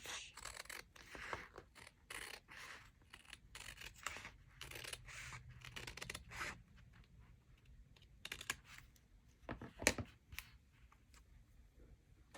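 Paper being trimmed with scissors along its white edge while decorating a vintage journal, heard as a close series of quiet crisp snips and rustles with brief pauses and one sharper cut near the end.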